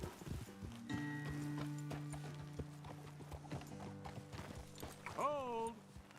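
Horse hooves clip-clopping in Red Dead Redemption 2, a steady walking rhythm of fairly close, quiet hoofbeats, with a horse's whinny or snort near the end and a low held tone underneath.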